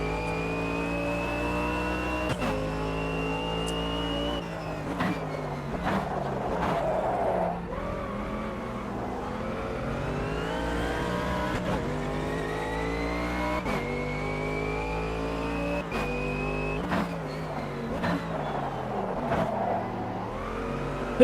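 Race car engine revving and shifting through gears in the IMSA racing game AMS2, loud and continuous, with tyre squeal and skidding sounds under the engine note throughout.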